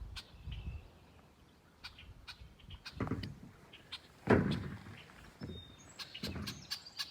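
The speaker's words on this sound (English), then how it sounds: "There's a bird attacking me because he thinks this is his area" A territorial bird calls outdoors in a scattered run of short chirps over faint background noise and a few thumps, with no talk.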